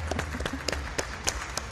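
Brief applause from a small group: quick, uneven handclaps patter for a moment over a low background hum.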